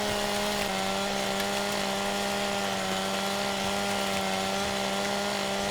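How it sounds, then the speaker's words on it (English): Chainsaw in Farming Simulator 2017 felling a tree: a steady, loud, continuous engine drone with a constant pitch, running without pause and with no speech. "We'll go for a straight cut. Our mighty chainsaw."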